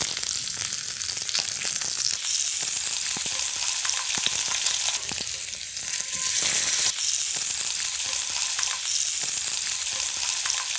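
A pistachio-crusted rack of lamb sears in a hot pan, a loud, dense, continuous sizzle and spatter heard up close, with occasional crackles and a brief surge as the meat is moved.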